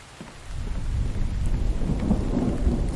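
Rain and thunder in the survival video game The Infected: a low rolling thunder rumble builds and lingers under a steady hiss of falling rain, loud and continuous with no talking.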